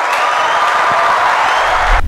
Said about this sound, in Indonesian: Sebelum yang terakhir, kita boleh sambut tepuk tangan untuk Andrew.